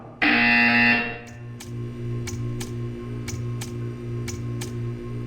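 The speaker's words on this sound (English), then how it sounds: "You will hear a buzzer. When you hear the buzzer, stare at the art." A Portal 2 test chamber buzzer blares loudly for under a second, then a faint mechanical ticking repeats at a steady pace over a low pulsing machine hum.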